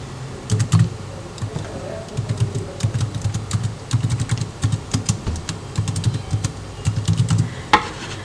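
Steady typing on a computer keyboard while entering employee data into an MS Office 2000 database table, with quick clustered keystrokes recorded close up over a low hum.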